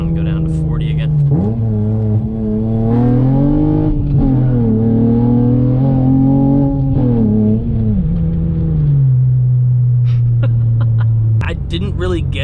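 A car engine hums loudly and steadily from inside the cabin, its pitch rising and falling as the car drives and accelerates, then settles to a lower drone as it slows. Someone talks over it throughout.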